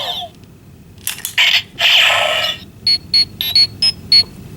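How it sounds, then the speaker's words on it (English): Power Rangers Legendary Morpher toy communicator chirps out a quick run of five short, sharp electronic beeps in an even rhythm, preceded by a brief burst of bright toy sound effects, loud and close. "the communicator beep."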